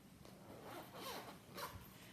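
A zipper runs around the front pouch of a Vera Bradley bag, a quiet close rasp that rises and falls in a couple of pulls.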